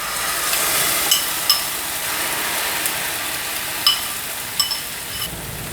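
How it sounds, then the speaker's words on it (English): Beaten eggs mixed with allspice and black pepper hit a hot pan, giving a steady broadband sizzle with a few sharper crackles and pops scattered throughout, close and fairly loud, with no talking. "Add everything in the pan."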